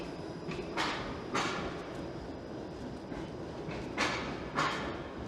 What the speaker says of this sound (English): Sounds like that streetcar has a broken wheel or something.